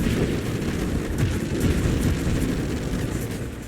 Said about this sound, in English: I fell for that explosion.